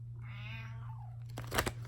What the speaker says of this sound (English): Oh, sorry about that. That's my cat, Tigger.